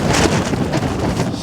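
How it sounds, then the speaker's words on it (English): Gusts of around 70 km/h batter a mountain summit, roaring and buffeting the microphone in loud, surging waves with no pause. "these are like 70 km/h gusts at least"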